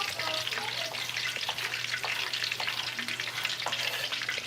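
Fish frying in hot oil, a dense continuous sizzle with crackles and pops, close and steady throughout, with a low hum underneath.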